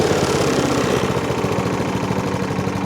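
A Hayter Hayterette lawn mower engine with a new spark plug idles close by in a loud, steady, even chug. The mower has a suspected fuel delivery fault.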